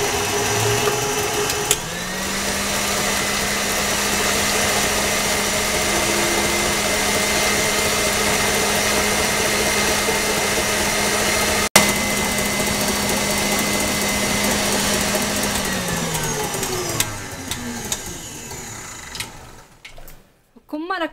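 An electric mixer whisks eggs for a cake batter until they double in volume. Its motor drones steadily and loudly from start to end, shifting pitch slightly as it starts and stops, with one sharp knock in the middle and a voice over part of it.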